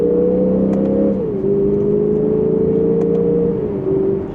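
A 2025 Lexus IS500 F-Sport accelerates from second gear in Sport S Plus mode, its engine note climbing loudly from inside the cabin, dipping briefly at each of two upshifts before rising again, with no talk over it.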